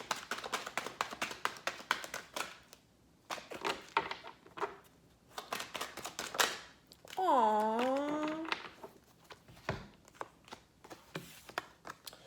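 Soft riffling and tapping of tarot cards being shuffled, with quick dry clicks, a brief warbling tone midway, and a few hand taps near the end.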